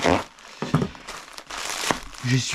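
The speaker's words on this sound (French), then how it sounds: "je vais passer au déballage de ce colis" Parcel packaging being opened during an unboxing: close crinkling and rustling of plastic and paper in short bursts, with someone talking in between.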